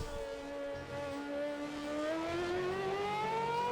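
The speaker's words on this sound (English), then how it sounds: "Should be able to hear the V8 screaming by right now." A 2010-spec V8 race car engine screams past on the track at an exhibition run in Austria, its rising whine climbing steadily in pitch as the car nears, moderately distant and alone without talk.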